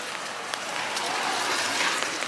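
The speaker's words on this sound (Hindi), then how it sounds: "अंधेरा हो रहा है क्योंकि बारिश हो रही है।" Steady rain falling outdoors as darkness comes on, a continuous even hiss with faint scattered patter, moderately loud and unbroken.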